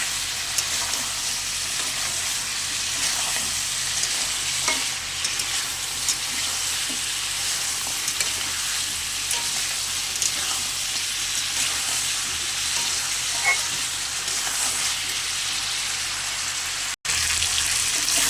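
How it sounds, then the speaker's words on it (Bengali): Bori and raw potatoes stir-fried together in a pan, a steady sizzling hiss with faint scraping of stirring running unbroken for nearly twenty seconds, close and moderately loud. "বড়িটা কাঁচা আলু সব একসঙ্গে ভালো করে কষে নেব"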